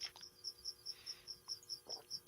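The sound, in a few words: crickets chirping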